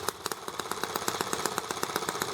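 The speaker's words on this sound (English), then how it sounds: "When I open it all the way up, it suddenly sucks too much fuel and starts to" ET8 engine running with a hard, pulsing throttle response, bogging down as it opens up; a rapid, regular chugging beat, fairly loud and steady, with no talk.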